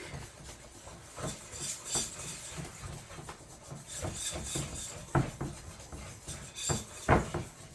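Dry keto chocolate cake ingredients being mixed in a bowl, irregular scraping and rubbing strokes of a utensil against the bowl with occasional light clinks, close and fairly quiet with no talking.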